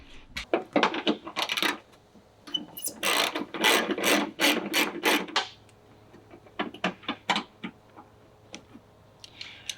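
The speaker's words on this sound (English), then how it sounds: "there's a 10 mil bolt right in there. So loosen that" A ratchet loosens a 10 mm bolt on a Toyota Tacoma fender, making rapid close-up clicking and rasping in several clustered bursts, with a dense run in the middle and sparser clicks afterward.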